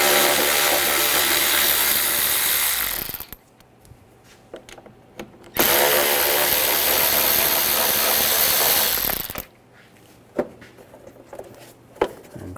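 A power tool drives a T20 socket to back out the intake tube screws on a 2007-2013 BMW 328i 3.0L inline-six, in two loud, sustained whirring bursts separated by quiet clicks and handling noises.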